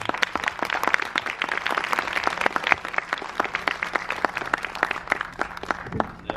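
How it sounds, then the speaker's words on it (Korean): A cinema audience at a film talk event at Megabox COEX claps to welcome an actor to the stage: dense, sustained applause with crisp overlapping claps throughout, loud and close, with no talking over it. "큰 박수로 맞이해 주십시오"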